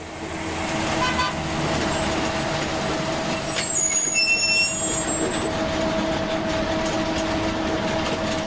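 A large bus pulling up outside, with a steady engine drone, a sharp hiss of air brakes and a brief horn toot mid-way, loud and close with no talk.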